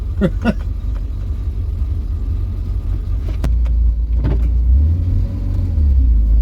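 A barn-find Vauxhall Viva drives along with a steady, loud engine rumble close by. The revs rise and fall as it shifts through the gears, and a couple of faint clunks sound early on.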